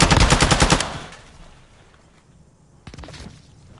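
Rapid automatic gunfire rattles loudly in an online shooter video game, a dense burst fading after a second, then a quieter pause broken by another sharp volley of shots, with no talking.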